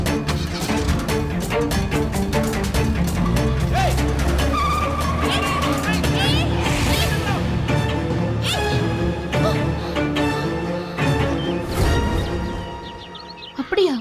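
A car revs and pulls away with tire squeal and skidding, loud and busy, mixed with voices and dramatic music throughout.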